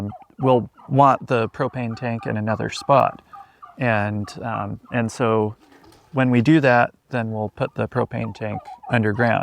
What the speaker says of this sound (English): the turkeys are getting really noisy if you hear them in the background